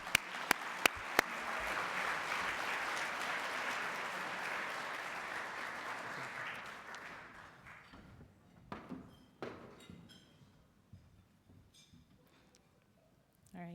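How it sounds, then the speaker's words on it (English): Audience applause at an awards event honoring public service heroes in health, loud steady clapping for several seconds with a few sharp claps at the start, then tapering into scattered claps and faint room noise. "Let's give a big round of applause for Shannon and bring her up here."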